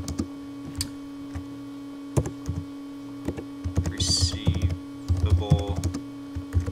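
Keys clatter on a computer keyboard as a macro name is typed into Excel, sparse taps first and then denser bursts of clicking, heard alone over a steady mains hum.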